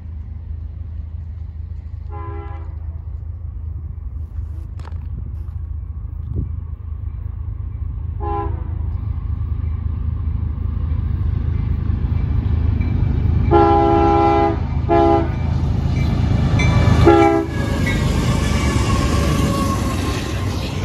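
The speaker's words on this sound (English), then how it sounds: "we got a CSX Westbound train down the line" A CSX westbound freight train rolls along the line with a steady low rumble that grows louder as it nears, its horn sounding several times in short blasts and longer calls, no voices over it.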